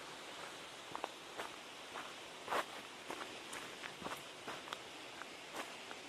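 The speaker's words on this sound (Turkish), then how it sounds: "Sadece ağaç köklerine basarak iniyoruz." Footsteps descending a forest slope by stepping on tree roots near a waterfall, soft irregular crunching and scuffing steps close by over a steady rushing water background.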